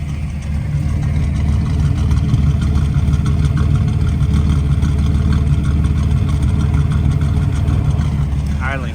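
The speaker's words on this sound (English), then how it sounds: "It's idling so much better." A 1987 Buick Regal Limited turbo engine idling, a steady low rumble with a smooth, even pulse close up, running continuously throughout with no other sound breaking in.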